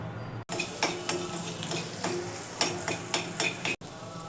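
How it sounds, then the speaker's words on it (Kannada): Chopped garlic fries in butter in a pan for a veggie pepper fry, a soft close sizzle broken by repeated light scrapes and clinks of a spoon stirring, with a short silent break at each end. "ಬಟರ್ ಹಾಕಿದ್ದೀನಿ, ಬೆಳ್ಳುಳ್ಳಿ ಪೀಸ್ ಮಾಡಿದೆ ಹಾಕ್ತಾಯಿದ್ದೀನಿ"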